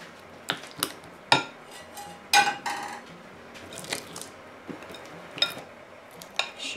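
A spoon or whisk mixing gelatin into a cream cake filling in a bowl, with scattered sharp clinks and scrapes against the dish, irregular and close, with no voices.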